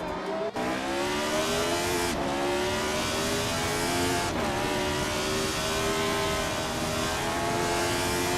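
A Penske PC1 race car from the 1975 season roars through a racing video game, its loud, steady engine whine shifting pitch twice as it changes gear, with other car engines layered close in the mix and no voices.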